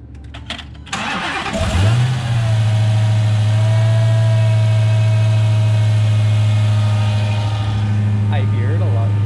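A Dodge Hellcat fitted with a Bwoody intake fires up after some clicks, catching with a loud burst and settling into a deep, steady idle with a faint whine on top, recorded up close.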